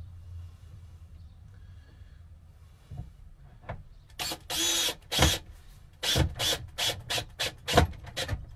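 A drill drives screws to fasten a galley table inside a Promaster 2500 159-inch-wheelbase van build. After a few soft knocks, a string of short, close whirring bursts comes in a stop-and-start rhythm.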